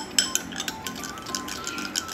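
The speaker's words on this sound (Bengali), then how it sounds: "এরকম করে চামচে করে ঘুরিয়ে ঘুরিয়ে এটাকে" A spoon stirs a creamy chhena paste for a homemade skin-brightening face pack in a bowl, giving quiet, close, irregular clinks and scrapes.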